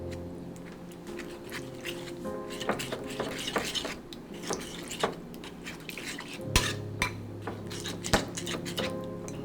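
A spoon clinks and scrapes against a bowl while gochujang sauce is mixed for squid and pork belly bulgogi. Irregular metallic taps and scrapes sound close by, with a few louder knocks near the end.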